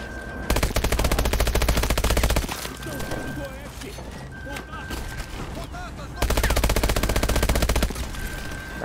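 Rapid automatic rifle fire from the Call of Duty: Advanced Warfare campaign, loud and dense in two sustained bursts with a quieter stretch of scattered shots and battle noise between them.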